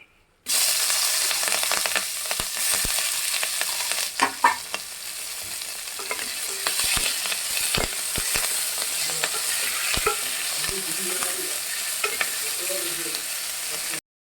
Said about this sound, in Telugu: ఉల్లిపాయలు పచ్చిమిర్చి వేసుకుందాం